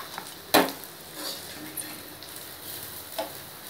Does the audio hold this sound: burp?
no